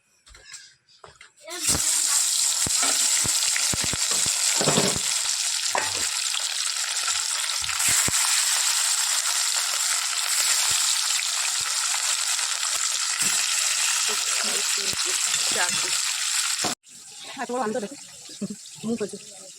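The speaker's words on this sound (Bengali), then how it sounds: "তেলটা গরম হয়ে গেছে, দিয়ে দিই মাছটা" Tilapia fish sizzles loudly in hot oil, a steady dense frying hiss that starts abruptly after a brief lead-in and runs close up for most of the clip before cutting off, with some stirring clatter at the end.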